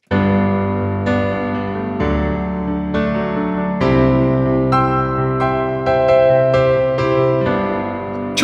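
Piano plays a steady sequence of rhythmic chord inversions, roughly one strike per second with ringing overlapping sustain, full and close with no talking.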